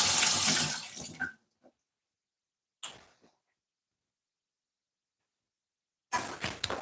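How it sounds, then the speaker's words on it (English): Tap water runs over a yellow pepper being washed at a kitchen sink. Splashing comes in short bursts separated by silent pauses, near and fairly loud. "Yellow pepper, just gonna give this a wash."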